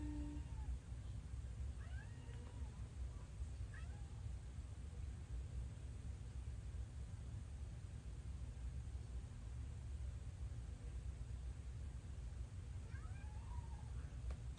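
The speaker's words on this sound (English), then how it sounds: "Where's my kitten?" A kitten gives a few faint, scattered meows over a steady background hum, the cries brief and spaced apart across the stretch.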